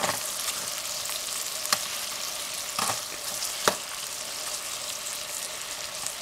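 A roux of fat and white flour fries in a canteen cup with a dense, continuous close sizzle, broken by a few sharp scraping stirs and small spits, with no one talking.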